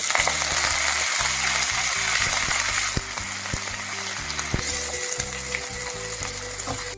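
Chana dal and curry leaves frying in hot oil for semiya upma, a bright continuous sizzle with repeated rhythmic scraping or tapping strokes from stirring, close and loud.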